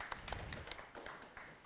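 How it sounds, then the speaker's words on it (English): Audience applause at a panel discussion, a short burst of scattered claps with uneven sharp hits, moderately close and fairly soft, with no voices over it. "How about a round of applause for Janet Lucar?"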